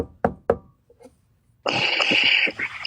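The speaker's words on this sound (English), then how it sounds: "Somebody's at the door." Two sharp knocks on a door, close by and about a quarter second apart, followed after a short pause by a burst of louder, sustained broadband noise.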